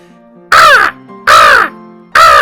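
A man imitates an American crow, giving three loud, harsh, evenly spaced caws up close with short pauses between them.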